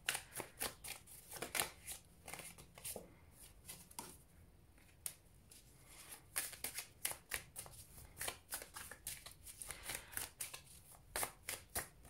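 Tarot cards shuffled over and over in quick, crisp riffling bursts, close and fairly loud, with no talk over it.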